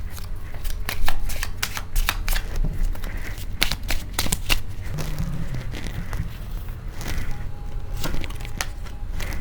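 Tarot cards shuffled and drawn in a reading, giving repeated short crisp riffles and slaps over a low room rumble, fairly close and steady throughout.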